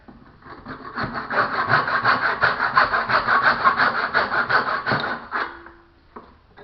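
A hand saw cuts wooden pieces for studs in a cutting box, with about four seconds of quick, rhythmic back-and-forth rasping strokes, close and loud, before it tapers off.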